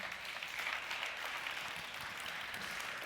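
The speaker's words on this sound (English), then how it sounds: "I like how many people clapped versus how many did not" Audience applause, a steady wash of clapping from a crowd at a business talk, fairly faint and even throughout with no voices over it.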